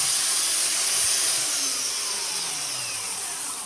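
A woodworking belt sander runs steadily as wood stock is fed along the belt edge, a continuous broadband abrasive rush that eases slightly toward the end, without talk.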